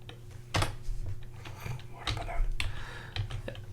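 Computer keyboard typed on while coding, a quick close run of soft key clicks and taps over a low steady hum.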